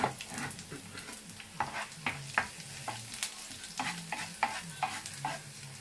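Garlic frying in a pan for prawn fried rice, a quiet steady sizzle punctuated by repeated close clacks and scrapes of stirring, irregular in rhythm, with no talk.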